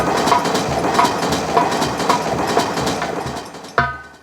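Rhythmic clickety-clack of a train's wheels rolling steadily over rail joints, sounding inside a nautanki folk-theatre skit, with a sharper clank near the end and no talk.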